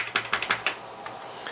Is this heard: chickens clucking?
no